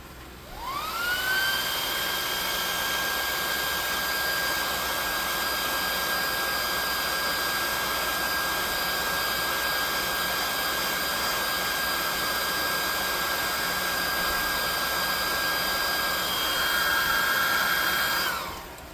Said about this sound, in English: We're going to hit this with a light hair dryer.